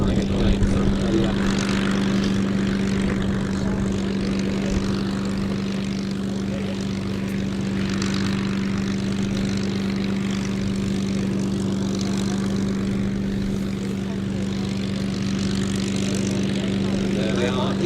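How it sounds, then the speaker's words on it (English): Miles Magister and Tiger Moth vintage propeller trainer aircraft coming in to land at an airshow at Duxford, a continuous droning engine hum that stays loud and steady throughout, with crowd noise and commentary mixed in. "There they are, into land, Scott Butler on the Miles Magister."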